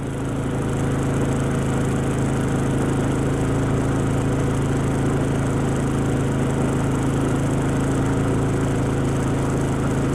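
Portable generator running at full 21 amp load inside a DIY styrofoam sound box, giving a steady, loud, continuous engine drone with a low hum that holds constant throughout, with no talking.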